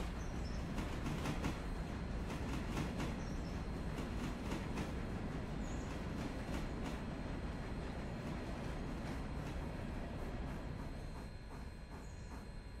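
A train rolling and braking in the Railroader video game, with steady clickety-clack wheel beats over a dense rumble and faint high squeals, continuous and close without talk.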